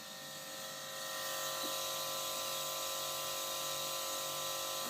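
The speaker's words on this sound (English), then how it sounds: "This is my air compressor. It's a June Air Silent." A Jun-Air Silent air compressor runs as a low, steady hum with a faint tonal drone, quiet and even throughout with no talk over it.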